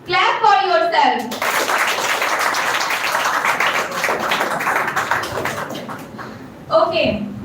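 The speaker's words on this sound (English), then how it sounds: "Clap for yourself." An audience at a women's education session claps for themselves, a burst of lively hand clapping from a crowd lasting several seconds, with a speaker's voice before and after the applause.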